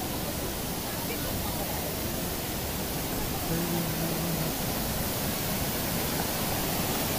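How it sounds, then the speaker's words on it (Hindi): A waterfall in Nainital gives off a loud, unbroken rushing roar of falling water that fills the whole span evenly and drowns out most other sound. "ये है वाटरफॉल यहाँ का"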